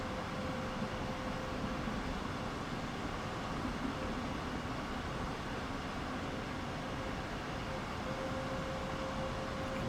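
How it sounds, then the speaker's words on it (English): Electric train in Train Sim World 3 on the Hamburg to Lübeck line: a steady, even rolling rumble with a faint, thin motor whine held beneath it the whole time. "You can just about hear the motor whine."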